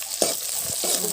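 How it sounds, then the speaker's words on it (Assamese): Onions sizzle in hot oil, a short, close, bright frying hiss with a few soft stirring knocks and no talking. "এয়া মই তেল দিছোঁ আৰু পিঁয়াজখিনি ভাজিম অকণমান সময় ভাজি ল'ব।"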